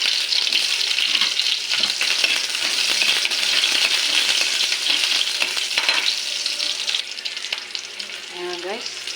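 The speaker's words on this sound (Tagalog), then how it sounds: "Ngayon, igigisa ko na ang mga ricado guys." Onion, garlic and ginger sautéing in a pan for laing, a dense, loud, continuous sizzle with a few stirring scrapes near the end.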